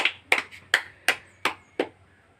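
Children clapping hands in a small classroom-style English vocabulary lesson: six sharp, separate claps in a steady rhythm about a third of a second apart, close and clear with a quiet background.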